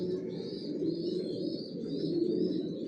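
Racing pigeons, Johnson red checker birds, coo in a loft, low rolling coos overlapping steadily from nearby, with faint higher chirps above.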